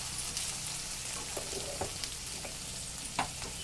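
Okra (ladies finger) fries in a pan with a continuous close sizzle and crackle, broken by scattered scraping taps from stirring.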